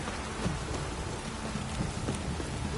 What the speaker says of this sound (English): This downpour's a bastard